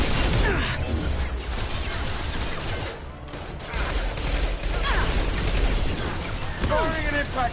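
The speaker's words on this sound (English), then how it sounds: "Firing an impact shot." Impact shot weapon fire in Mass Effect 2, bursts of loud gunfire and crashing combat effects that run nearly continuously, with a short dip in the middle before the barrage resumes.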